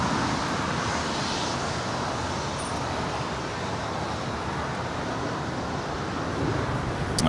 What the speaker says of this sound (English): we see the Japan Airlines 777 make her way down to 25 right